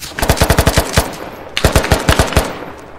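Machine gun fire in the video game Squad: two rapid bursts of loud, sharp shots, the first about a second long with evenly spaced rounds, then a brief pause and a second burst, with no talk over it.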